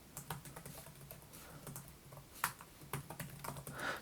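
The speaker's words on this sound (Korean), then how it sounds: "이렇게 키 타이핑을 해봤는데요" Steady typing on a Samsung Galaxy Book Ion laptop keyboard, a close, quiet run of light plastic key clicks with an occasional sharper tap, no talking.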